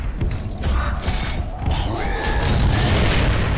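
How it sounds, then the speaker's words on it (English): Loud, dense gunfire and booming impacts strike the player in Gears of War 3 Horde mode on PC, with mechanical clanks and creaks layered throughout a continuous, chaotic battle mix. "What's shooting me, bro?"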